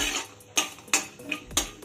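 Peanuts and cashews being dry-roasted in a pan over low heat, giving a few sharp clinks and scrapes of utensil on pan at irregular intervals, close up, with no talking.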